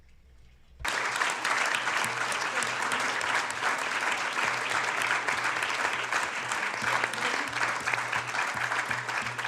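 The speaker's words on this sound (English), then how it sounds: "Thank you to the men who applauded." Steady applause from a conference audience at a Latin America Day political event, a dense sustained clapping that starts abruptly after a quiet moment and holds evenly for several seconds.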